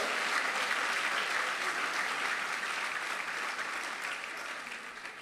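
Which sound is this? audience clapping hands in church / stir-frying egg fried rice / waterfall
audience clapping hands in church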